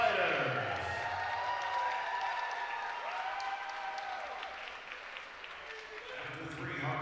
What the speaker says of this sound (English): a round of applause for 2 great fighters.